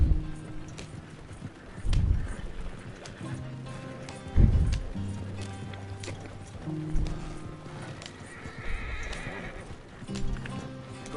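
In a video game, a horse's hooves clip-clop at a steady pace while the animal neighs, with louder snorts and whinnies breaking out over the footfalls.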